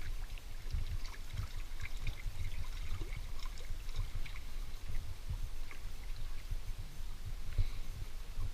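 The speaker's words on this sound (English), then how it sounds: "Some waterfalls coming down here, just little trickles." Small waterfalls trickle down quartzite rock near a lake inlet on a canoe trip, a faint, continuous splashing and dribbling with scattered soft drips and no talk.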